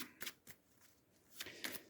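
Quick riffles of Marvel Champions game cards being shuffled, a few short bursts close by with quiet pauses between them.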